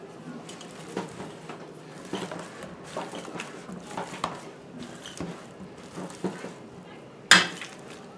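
Soft squishing and scraping thuds repeat unevenly as boiled potatoes are mashed in a bowl, with one sharper clink near the end; no voices.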